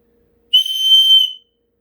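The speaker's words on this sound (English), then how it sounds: "she blew upon a silver whistle that hung around her neck" A single shrill whistle blast, loud and clean, lasting under a second and ending abruptly, with silence before and after; a silver whistle blown by a witch.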